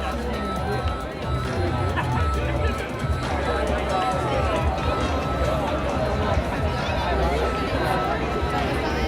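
Dense crowd chatter among a large evening gathering at Epcot in Walt Disney World for the Fourth of July fireworks, loud and continuous babble of many voices and footsteps close around, with people talking nearby.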